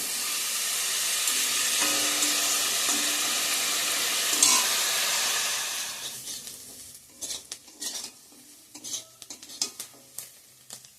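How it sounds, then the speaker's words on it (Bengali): Potatoes with turmeric frying in a pan, a loud continuous sizzle with scraping stirring for about six seconds, then the hiss drops away to sporadic utensil clinks and taps. "তো আলু ভাজাটা হয়ে গেছে,"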